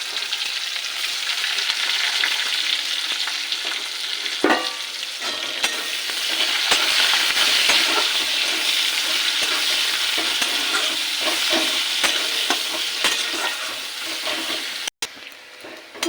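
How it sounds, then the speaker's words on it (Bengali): Chopped onions frying in oil with bay leaf, whole garam masala and cumin, a steady near sizzle with occasional stirring clatters and scrapes, no voices. "পেঁয়াজটা ভাজা হয়ে গেছে"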